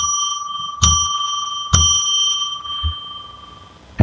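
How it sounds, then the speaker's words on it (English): A small bell rung to open a live psychic radio stream, with three bright metallic strikes in this stretch, two close together early on and the third right at the end, each leaving a sustained ringing tone that slowly fades. "I'm going to ring a bell 3 times to declare sacred space."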